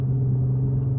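A Ram TRX truck's engine gives a steady, deep rumble up close. The low drone holds even and unbroken throughout, with no voices over it.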